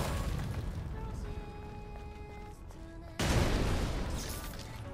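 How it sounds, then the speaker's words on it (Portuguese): Explosion in the action video game Stellar Blade, a sudden loud broadband blast bursting in partway through after rumbling game ambience with tonal sound effects, then a sustained roaring decay. "Explosão braba aqui."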